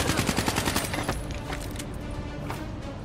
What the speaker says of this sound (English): I'm shooting them from the back and they don't know who hit them.